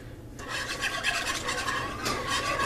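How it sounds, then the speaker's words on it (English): Whisk stirring grape jelly heated in a container for party meatballs, heard as a steady, close scraping and rasping with quick rhythmic strokes and no speech. "and I'm going to get a whisk."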